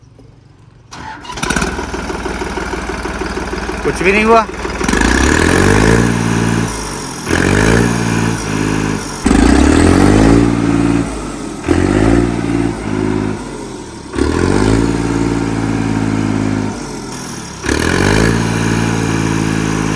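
Mahindra Arjun Novo turbo tractor running without its silencer: the diesel cranks and catches, then idles loud and close with repeated revs and drops, stopping and restarting several times, with a brief voice heard.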